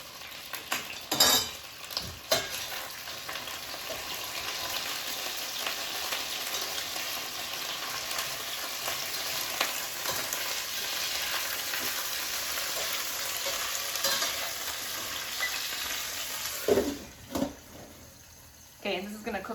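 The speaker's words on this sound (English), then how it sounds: "I'm going to start sauteing my onions and the rest of the ingredients" Onions and other vegetables for a zucchini soup sauté in a pan, a steady close sizzle with clinks and stirring knocks at the start and near the end.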